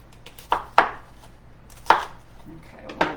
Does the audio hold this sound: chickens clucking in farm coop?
no